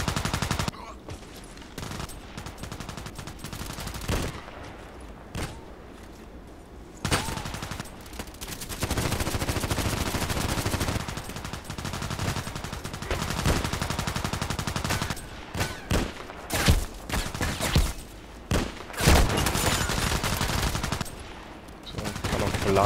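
Rapid gunfire from a first-person shooter game on the map Interchange, with bursts of shots and machine-gun fire sounding dense and loud, broken by short pauses.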